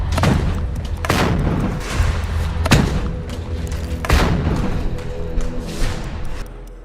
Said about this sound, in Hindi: ताबड़तोड़ चलती ये गोलियां